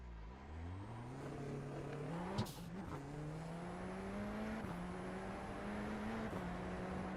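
A simulated race car engine in iRacing hums at a steady pitch, rising and dipping slightly with shifts, a faint tire squeal breaking in midway.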